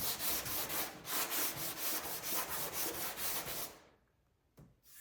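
Body filler on a 1968 Corvette rear quarter panel is sanded with a sanding block in quick, rhythmic back-and-forth strokes, a close, harsh scratchy rasp that stops abruptly near the end, leaving one brief final scrape.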